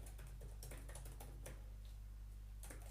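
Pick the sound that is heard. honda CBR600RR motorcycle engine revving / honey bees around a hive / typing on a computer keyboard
typing on a computer keyboard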